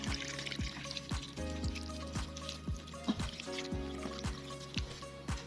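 Dirty water flows out of a pipe in a faint, steady stream, with rhythmic splashing drips falling about twice a second.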